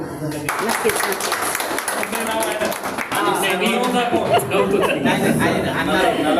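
Clapping from members gathered in Pune for the Borderless Panthers get-together, a birthday and farewell celebration, steady and fairly loud, mixed with chatter and voices throughout.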